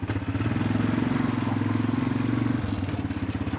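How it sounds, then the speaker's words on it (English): A four-wheeler engine running nearby with a fast, even chugging putter that holds steady, then drops slightly in pitch near the end, at moderate loudness. "as soon as he hears the four-wheeler, he likes to go for a run"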